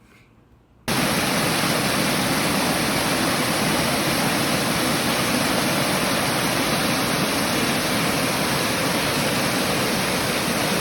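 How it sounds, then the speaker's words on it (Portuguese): Waterfalls near Boa Vista in Roraima, in the Amazon, pour down in a steady, loud, broadband roar that bursts in after a brief quiet moment and continues unbroken, with no voices. "5 cachoeiras com belezas, mais uma vez, que recompensa e que aparece em doses generosas de água"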